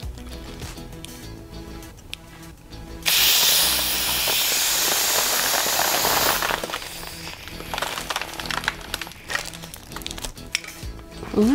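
Air or helium hisses loudly and steadily through a narrow nozzle into a bubble balloon holding a small dinosaur figure, a sustained rush lasting a few seconds between quieter handling crinkles.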